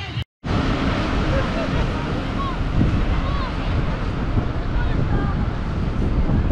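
Strong side wind buffets the microphone at a high-altitude show in front of a crowd, a steady loud roar of gusting noise after a brief dropout at the start.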